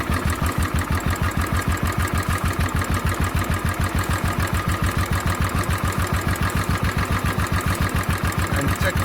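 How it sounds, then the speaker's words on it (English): A Royal Enfield Bullet 500 motorcycle engine idles with a low idle problem, producing a loud, evenly paced thumping beat that holds steady throughout with no talking. "So to increase the engine idling, there's a screw-like thing here."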